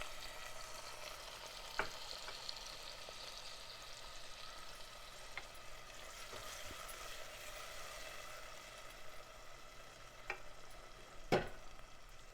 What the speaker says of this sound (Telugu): ఒక మీడియం సైజు ఎర్రటి టమాటో చిన్న ముక్కలుగా కట్ చేసుకొని ఇది కూడా వేసి వేయించుకోవాలి